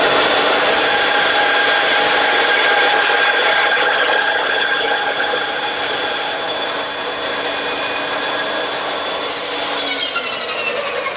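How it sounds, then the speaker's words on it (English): A bandsaw cuts away the corner of a wooden umbrella-stand shelf in one loud, sustained pass lasting about eleven seconds. The saw's pitch shifts slightly near the end of the cut, and nobody speaks over it. "I'll remove the material at the bandsaw."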